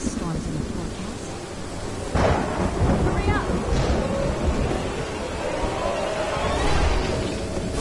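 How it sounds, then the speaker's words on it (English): Rain and rolling thunder from a storm in the video game Eventide 2: Sorcerer's Mirror, a constant dense wash of rainfall with a louder rumble arriving partway through, no speech over it. "Oh, there's a rad storm coming in."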